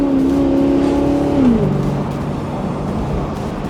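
A 2010 Maserati GranTurismo Convertible with a Ferrari V8 cruises along, its engine droning smoothly, then the pitch drops as it shifts, a loud steady hum under road noise.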